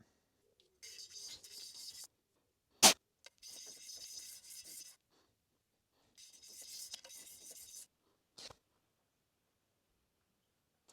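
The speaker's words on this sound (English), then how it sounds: "run them on some 1000 grit sandpaper just to polish them up a bit" Brass guitar saddles rubbed on 1000 grit sandpaper, giving several bursts of dry, close scratching separated by silences, with one sharp knock between strokes.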